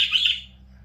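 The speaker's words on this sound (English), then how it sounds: "Chirp to each other." Pet birds chirp to each other in a cage, a bright run of high tweets close by for about half a second, then fading to quiet over a low steady room hum.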